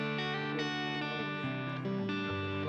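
A Chase Bliss Gladio overdrive guitar pedal voiced for an amp-like Dumble sound, playing sustained, harmonically rich driven guitar chords that shift every half second or so, steady and fairly close.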